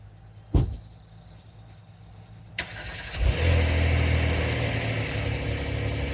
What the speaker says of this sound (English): I'm going to back up the tow vehicle, and Katie's going to sort of direct me.